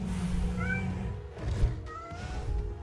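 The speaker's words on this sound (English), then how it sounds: "Yeah, the cat's going insane." A cat meows twice, with clear rising calls over low background noise and no talking.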